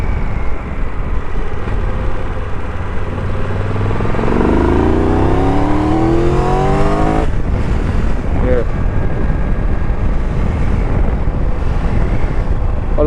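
Triumph motorcycle fitted with an Arrow exhaust accelerating, its engine note rising steadily through the gears before easing off, heard close under steady wind noise.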